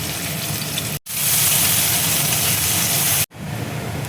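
Chopped onions hit hot oil in a wok, making a loud, broad hissing sizzle, broken twice by brief dropouts, with the steady frying roar continuing close by.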